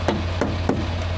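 Three evenly spaced light knocks on a truck's muddy mud flap and quarter fender, close and crisp, over a steady low engine-like hum.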